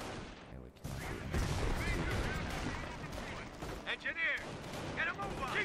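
Battle noise from the World War II strategy game Company of Heroes: dense, continuous gunfire and heavy explosions rumbling through the whole stretch, with voices calling out over the din.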